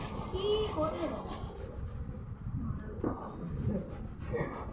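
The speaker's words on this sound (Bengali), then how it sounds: "গাজর ঘষতে যাচ্ছে" Carrots are grated by hand for carrot halwa, giving soft, repeated rasping scrapes at a moderate distance. Voices murmur in the background throughout.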